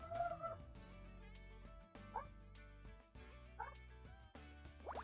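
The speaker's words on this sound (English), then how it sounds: "That is a dog getting very angry for some reason." Angry dog barking in the puzzle video game Murder by Numbers, a few sharp yelping barks at about two and four seconds, rising above a steady game music bed.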